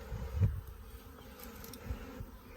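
A swarm of honeybees crowded inside a hive box on a farm, making a soft, continuous low buzzing drone up close, with a few faint bumps and knocks and no talking.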